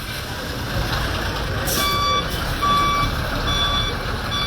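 Heavy road traffic rumbles nearby on a Liberian street while a truck sounds steady, repeated reversing beeps above the engine noise.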